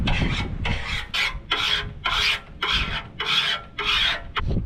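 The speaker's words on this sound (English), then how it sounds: "We finish it off with a wee rub with a file." A hand file rasps along a blade edge in about eight steady back-and-forth strokes, each a close, loud scraping burst separated by brief pauses, with no voices.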